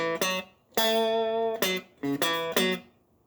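A dry electric guitar riff: a few plucked notes and chords ring out and stop cleanly with no echo trailing after them, no voices present.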